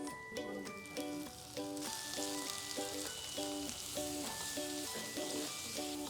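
Tomatoes and assorted spices sizzle and fry in a pan with onion, a steady close crackle running throughout alongside a repeating tonal pattern of background music.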